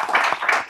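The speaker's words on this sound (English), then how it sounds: "Please give a round of applause" An audience applauds at the close of a panel discussion on college athlete pay. The clapping is brief, dense and steady, with no voices over it.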